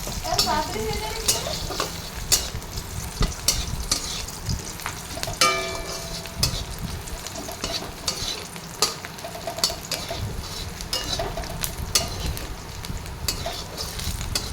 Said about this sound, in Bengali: এবার পেঁয়াজ দিয়ে পেঁয়াজ ভাজা হচ্ছে, পেঁয়াজ কুচিয়ে ভাজা হচ্ছে।